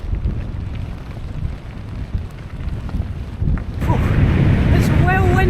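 Strong wind buffets the microphone during a bike ride along the Scottish coast near the Bass Rock, a steady low rumble growing harsher near the end where a few faint higher tones cut through.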